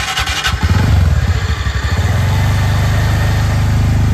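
A repaired TVS Ntorq scooter engine catches after a moment, then settles into a steady, close, even idle with a smooth putter throughout.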